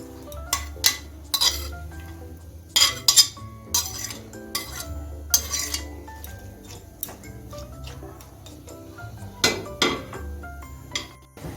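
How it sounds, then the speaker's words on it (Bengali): Red bottle gourd peels tipped into water in a non-stick pan on a gas stove, with a series of close, bright clinks and taps of a utensil against the pan in an uneven rhythm and soft stirring sounds between them. "এখন আমি লাল খোসাটা দিয়ে দিচ্ছি খোসাটাকে আমি একটু বাপিয়ে নেবো"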